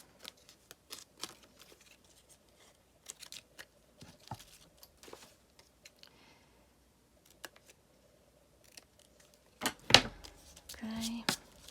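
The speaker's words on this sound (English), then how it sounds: "Of course, I have a huge pair of scissors." A huge pair of scissors cuts through an oversized paper envelope in quiet, sporadic snips and rustles, with a louder burst of paper handling toward the end.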